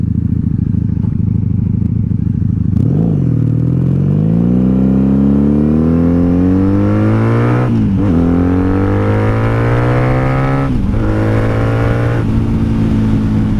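A 1997 Honda Magna VF750C motorcycle engine revs up steadily on a highway, pitch climbing as it accelerates, with brief dips at each gear shift before rising again; loud and close, no talking.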